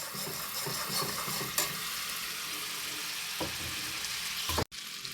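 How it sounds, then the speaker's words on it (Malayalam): Butter boils in a pan while ghee is being made, giving a constant bubbling hiss with a few sharper clatters and a brief dropout near the end, without speech. "വെണ്ണ നല്ല പോലെ തിളക്കാൻ തുടങ്ങിയിട്ടുണ്ട്"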